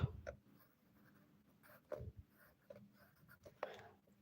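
A pen scratching on paper in short strokes and scribbles, close and quiet, with faint soft breaths and mouth noises between the bursts.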